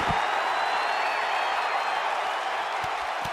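Steady roar of a capacity arena crowd in the WWE 2K19 wrestling game during an Elimination Chamber match, continuous and loud with a few sharp hits.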